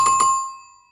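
A notification bell sounds two quick bright chimes, sustaining a clear ringing tone that slowly fades, alone and fairly loud.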